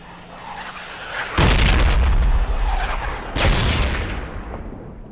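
Mortar rounds landing in Project Reality, two heavy, close booms about two seconds apart, each with a sharp crack and a long rumbling, hissing tail.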